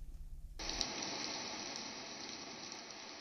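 Rain falls in the Kashmir valley, a dense, even hiss that starts abruptly after a quiet moment and then holds steady and moderately loud.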